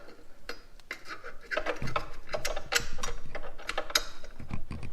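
A ratchet drives a bolt into a Raptor 700R ATV front mount in close, quick clicking bursts with metallic rattles, irregular and fairly quiet, without talk.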